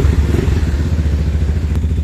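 A Yamaha Mio scooter engine fitted with a new KRY racing ignition coil, high-tension wire and tri-core spark plug runs steadily, a loud, close mechanical clatter and putter that holds continuous throughout, with no talking.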